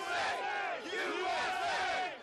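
Protest crowd filling the square in front of the state capitol in Richmond, Virginia, with rhythmic collective shouting and chanting from many voices, fairly distant and steady over a couple of seconds.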